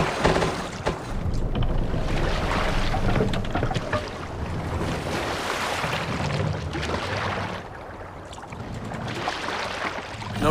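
A Viking longship is rowed across open water in Assassin's Creed Valhalla, with a steady wash of water and wind rushing around the hull, rising and falling over several seconds and heard alone without talk.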